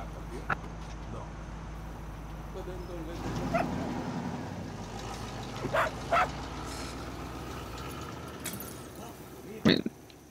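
A dog barks in the open-world shooter Far Cry 6: a few short, separate barks scattered over a steady low background hum, with engine-like rumble underneath.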